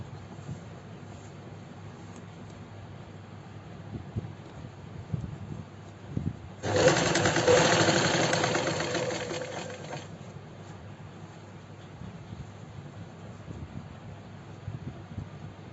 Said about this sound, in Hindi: इसके ऊपर हम एक सिलाई यहाँ पे एक लगा देंगे।